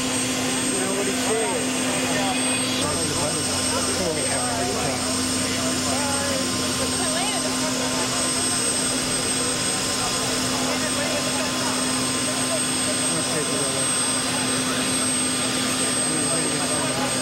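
Steady, loud helicopter engine drone with a constant whine, continuous throughout, with people talking over it, at West Point in 1993.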